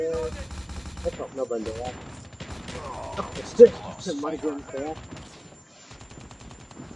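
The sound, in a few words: gunfire in a video game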